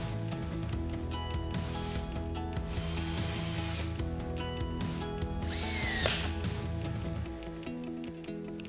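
A power tool tightens the coupling bands on a Husky CR 7000 2-inch corrosion-resistant pipe coupling to 80 inch-pounds, making sustained mechanical whirring with ratcheting clicks, close and continuous and free of speech.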